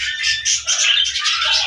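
Brown Australian doves calling, with a steady stream of chirps and squawks running throughout alongside a low repeating coo-like rumble, close and fairly loud.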